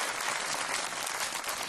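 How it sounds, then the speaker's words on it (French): Thunderous applause from a French audience in a studio or stage setting honoring a guest named Emmanuel, dense steady clapping filling the whole short stretch with no voices over it. "un tonnerre d'applaudissements pour Emmanuel"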